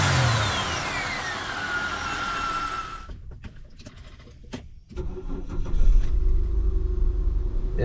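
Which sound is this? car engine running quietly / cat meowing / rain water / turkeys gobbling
car engine running quietly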